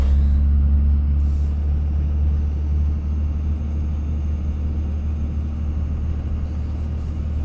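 A Dodge Ram with a 5.9 Cummins diesel and mud tires pushing through deep snow on a West Virginia mountain pass, a loud, steady low engine rumble that holds throughout without any talk.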